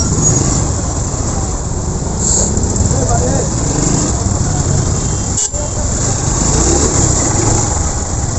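Heavy traffic rumbles on the 300 Feet road in a jam, a dense steady drone of engines and road noise up close with a brief sharp knock midway.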